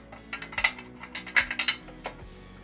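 Metal bolt slid down through the bracket of a floor jack during foundation repair, giving a quick run of light metallic clinks and scrapes with a few sharper knocks, close and alone.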